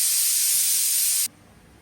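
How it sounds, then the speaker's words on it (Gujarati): A pressure cooker whistle in a home kitchen lets out a loud, steady, high-pitched hiss of escaping steam for just over a second, then cuts off abruptly, leaving only faint background noise. "મારે મોર્નિંગમાં કુકરની સીટીઓ બોલવા લાગી છે."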